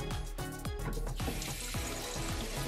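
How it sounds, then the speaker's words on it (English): Tap water runs steadily into a sink as vegetables are rinsed under it, a continuous close splashing and trickling with no talk. "Wash all the vegetables."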